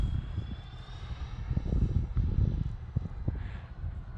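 A Freewing F-14 electric ducted-fan RC jet flies overhead, its whining fan roar swelling and fading with gusty wind buffeting the microphone.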